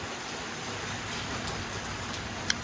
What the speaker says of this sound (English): the winds have subsided and now we're getting the rain.